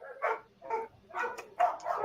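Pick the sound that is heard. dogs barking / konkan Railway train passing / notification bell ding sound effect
dogs barking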